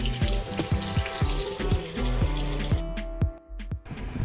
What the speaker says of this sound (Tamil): நான் போய் ஹேண்ட் வாஷ் பண்ணிட்டு போகிறேன்.